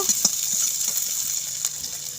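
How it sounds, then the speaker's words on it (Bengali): Chopped onion and garlic fry lightly in oil in a wok, giving a steady, bright sizzle with a few soft scattered clinks and taps. "পেঁয়াজ রসুনগুলোকে আমি হালকা ভেজে নেব।"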